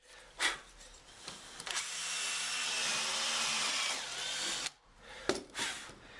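Power drill countersinking a wider clearance hole, a steady sustained whine lasting several seconds, with short bursts of drilling before and after it.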